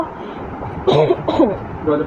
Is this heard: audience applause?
no